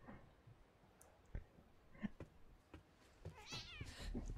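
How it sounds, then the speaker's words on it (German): A cat in the video game The Medium gives a faint, soft meow near the end, amid scattered light clicks and quiet background noise. "Oh, die Katze."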